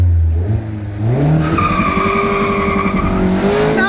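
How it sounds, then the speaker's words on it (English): A rear-wheel drive sports car of about 181 horsepower launches hard from a standing start in first gear with traction control off. The tires squeal loudly as the engine note climbs steadily, close and with no talk. "Now let's see what it can do from a standing start in first gear."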